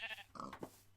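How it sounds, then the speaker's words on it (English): A sheep bleats close by in a short, quavering call, followed by a second brief bleat, both sounding faint and thin overall. "Here's some sheep"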